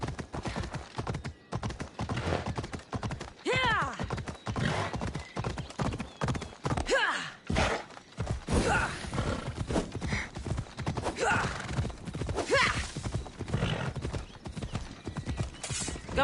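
A horse gallops in the Greek-set action game Assassin's Creed Odyssey, a fast, unbroken drumming of hooves with a whinny and a faint voice mixed in, moderately loud throughout.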